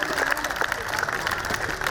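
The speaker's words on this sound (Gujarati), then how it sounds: "તાળીઓ સાથે આપણે વધાવી શકીએ." An audience at a primary school Republic Day cultural programme claps for a calligraphy competition's first-prize winner. Quick, scattered claps rattle close by while someone keeps talking over them.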